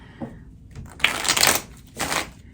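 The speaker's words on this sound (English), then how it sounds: "So let's open a new deck for this, give it a shuffle." A new deck of tarot cards is riffled and shuffled in two quick bursts, close and crisp, with no talking.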